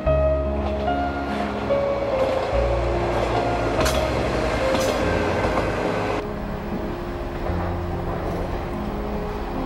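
A Hokkaido steam locomotive train runs along the Rumoi Main Line beside the Sea of Japan, giving a steady, close rumble and rattle of rail cars with a constant mechanical roar and no talking.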